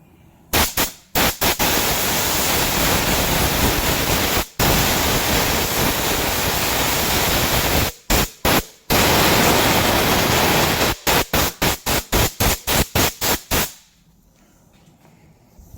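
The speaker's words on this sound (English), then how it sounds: "I dry sanded it just because I had a little bit of imperfections" Harsh, steady broadband hiss from dry sanding the body of a Chevy Impala being rebuilt, loud and close, stopping and starting in short bursts near the start and again in a rapid series of brief pulses near the end.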